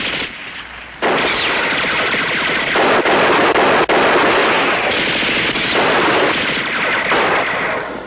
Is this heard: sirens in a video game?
no